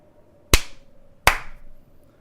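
Two sharp hand claps close to the microphone, about three-quarters of a second apart, each a crisp loud crack over a faint steady hum, with no talking.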